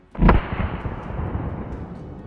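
A hunting rifle fires during a driven wild boar hunt in Haute-Marne: one loud, close blast that rolls into a long echo across the open countryside, with no voices.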